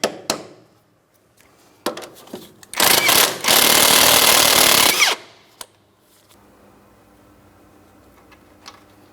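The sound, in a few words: tapping an outer tie rod end into position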